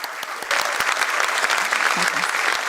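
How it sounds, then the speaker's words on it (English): An audience at a stock exchange listing ceremony breaks into loud, sustained applause as a speaker comes on stage, many hands clapping evenly with a few voices mixed in. "Let's have a huge round of applause for him"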